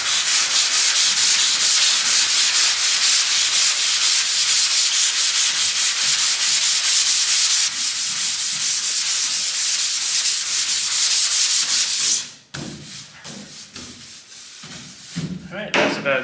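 Poly primer being sanded by hand with a sandpaper block, a steady loud rasping rub for about twelve seconds before it breaks into a few short, lighter strokes.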